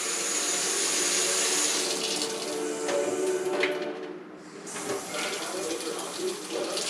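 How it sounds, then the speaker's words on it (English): Warm tap water runs steadily from a faucet into a sink to rinse black powder revolver parts, a continuous hiss with brief splashy changes as the flow is disturbed. "I want to rinse it with fairly warm water, which will help it dry faster"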